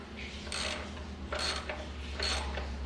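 A 19mm ratchet tightens bolts on a Jetson Bolt Pro rear wheel, giving three short bursts of quick clicking over a low steady hum.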